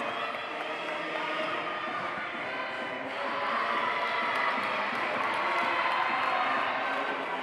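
A college gymnastics meet crowd cheers, claps and shouts in a sustained, roaring wash of noise that swells slightly midway, with voices blending into the din.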